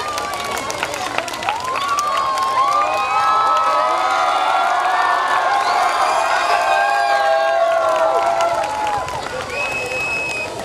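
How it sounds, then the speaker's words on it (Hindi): Crowd at a Janmashtami stage event cheers and claps on request, with loud whistles and shouts rising over continuous applause and background voices. "एक बार जोर से तालियां।"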